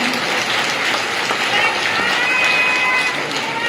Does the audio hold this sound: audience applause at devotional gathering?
yes